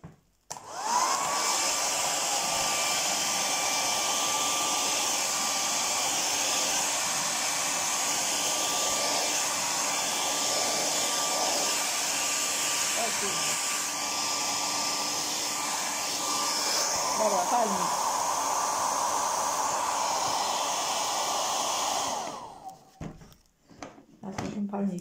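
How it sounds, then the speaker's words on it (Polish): A hair dryer blows steadily at close range for about twenty seconds, a loud continuous whirring hiss that cuts off near the end, used during an acrylic pouring art session. "Albo z suszarką."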